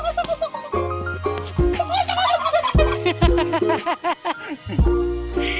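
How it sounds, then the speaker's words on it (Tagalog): Turkeys gobble repeatedly up close on a hill in Bayawan City, Negros Oriental, loud warbling bursts overlapping one another in quick succession with brief pauses between calls. "Manog ang pabo."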